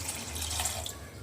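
Cold water pours into a pot for Kashmiri pink tea in a brief, continuous splashing stream, close and fairly soft, with no voices.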